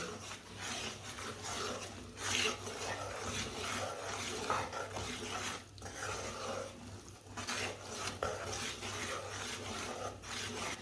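Dal being roasted and stirred in hot ghee for panjiri, a quiet continuous scraping and rasping of a spoon against the pan, steady throughout with no talk.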